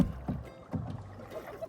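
A few soft paddle strokes from a canoe splash through lake water nearby, each a brief swish, with light wind in the background.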